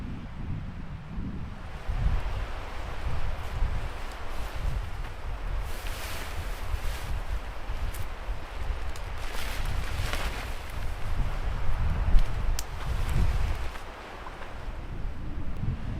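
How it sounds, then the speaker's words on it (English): Strong wind gusts batter a lakeside campsite, a rough, fluctuating low roar buffeting the microphone in swells that rise and ease, with no voices. "It's getting hammered by wind"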